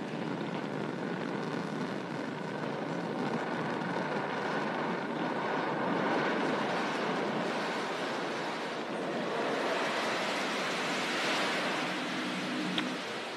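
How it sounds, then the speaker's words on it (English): Rocket first-stage landing burn during a foggy touchdown, a continuous broad roaring rumble with a steady wash of noise that swells slightly midway, loud and sustained throughout with no talk. "Stage 1 landing burn has started"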